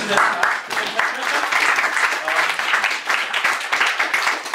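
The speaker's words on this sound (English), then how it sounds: "A round of applause for that." An audience at a London animation club event claps steadily in a dense, even round of applause that holds at the same loudness for the whole stretch.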